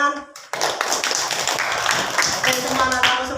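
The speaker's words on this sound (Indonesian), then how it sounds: "Tepuk tangan." A classroom of children claps hands together in a quick, dense burst of applause right after a brief spoken prompt, continuing loudly for a few seconds.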